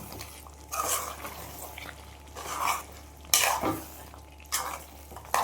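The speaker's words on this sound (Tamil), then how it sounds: "இப்போ வந்து பார்த்திங்கன்னா அப்படியே கிண்டிடணும்" Spoon stirring a large pot of chicken gravy, with several scraping, swishing strokes at moderate volume against a quiet kitchen background.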